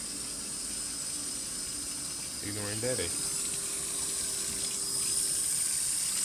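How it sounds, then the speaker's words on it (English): Hot tap water runs from a faucet in a steady, even gush that fills the background throughout, with a short spoken phrase partway through. "And we got pretty hot tap water here."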